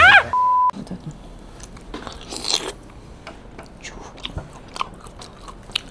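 Crisp bites and chewing on crunchy fried squid rings (calamares), close and moderately loud, with scattered crunch transients after an opening electronic beep.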